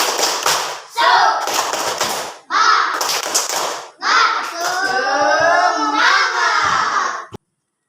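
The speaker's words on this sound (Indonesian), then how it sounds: "Tepuk semangat." A class of schoolchildren does a patterned rhythmic cheer-clap in a classroom, bursts of group clapping broken by short pauses, with children's voices chanting along between and over the claps.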